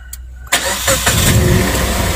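A used car's engine cranks and catches with a sharp start, then settles into a steady, fairly loud idle close by, with no talking.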